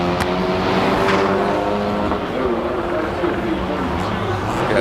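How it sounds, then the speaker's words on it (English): Honda Type R race car at a hillclimb, a loud continuous engine roar passing close, with a commentator talking over it throughout. "That's the Honda Type R from Honda Rivonia."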